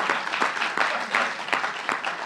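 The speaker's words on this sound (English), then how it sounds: "I know courtesy applause when I hear it." A live podcast audience offers thin courtesy applause, scattered hands clapping in a loose, uneven patter with a few distinct claps standing out, moderately loud and brief.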